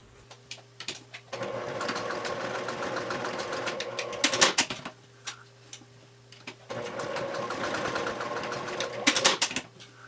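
A sewing machine top stitching the end of a bag strap runs in two steady rapid bursts of several seconds each, with short pauses and clicks between, close and clear.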